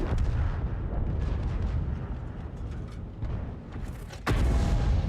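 World of Tanks artillery fire in game, heavy low booms and rumbling gunfire under dense battle noise, with a loud sharp blast near the end.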